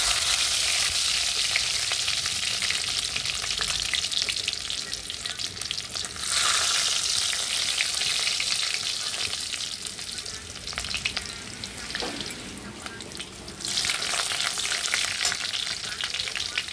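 Chopped garlic sizzles and crackles in hot oil alongside cumin seeds, a loud continuous frying hiss with brief surges as it is stirred.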